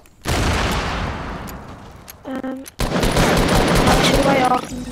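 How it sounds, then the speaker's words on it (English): Sniper gunfire in a video game: loud, dense bursts of shots that start abruptly, break off briefly, then resume, with short tonal game effects between the blasts. "I'm getting sniped at"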